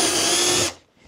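A power drill whines loudly and steadily while boring a 5mm hole through a hinge and shelf pin jig, then cuts off abruptly, leaving near silence.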